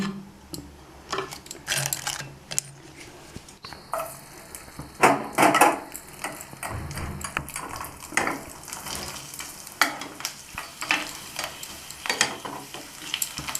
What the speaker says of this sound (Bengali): এবার আমি আপনাদের ভেজে দেখিয়ে দিচ্ছি।